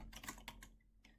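Quick bursts of typing on a computer keyboard while entering a web address during a Raspberry Pi setup on a Windows PC, close and clear, a few clustered keystroke runs separated by short pauses.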